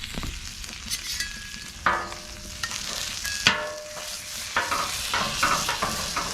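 Peppers sizzling on a flat top griddle in a backyard cook: a steady frying hiss with sharp scraping and clinking of a spatula at irregular intervals, close and clear, no talking.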